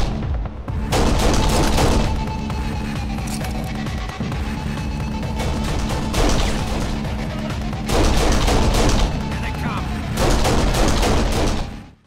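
Heavy gunfire from the shooter game Kane & Lynch: dense, loud volleys of shots and booms that roll almost continuously for about twelve seconds, with short dips between bursts.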